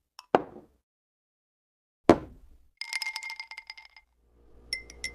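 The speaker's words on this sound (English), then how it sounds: "I add ice cubes." Ice cubes dropped into a glass of fresh orange juice, two sharp clinking plops a couple of seconds apart, followed by ringing glassy clinks and a soft rattle, close and clear with no talk.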